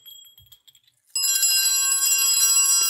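A small church bell is struck once after a near-silent pause and rings on with a bright, sustained metallic tone and shimmering overtones that hold steady to the end.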